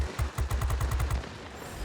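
A rapid burst of about ten evenly spaced aircraft gun shots from a Messerschmitt Me 210 in World of Warplanes hammers over a steady engine drone, then the firing stops and the drone carries on.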